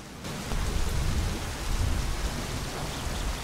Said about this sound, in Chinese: 能不能拍到打雷那一瞬间啊？